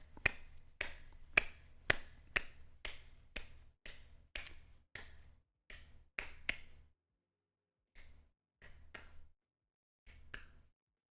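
Hand clapping in a quiet room, a run of sharp irregular claps that thins into a few scattered final claps with gaps of silence, fairly faint and close.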